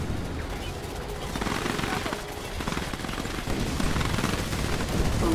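Rapid gunfire and explosions from the real-time strategy game Command & Conquer 3: Tiberium Wars, a steady dense barrage of shots and booms throughout with voices in the mix.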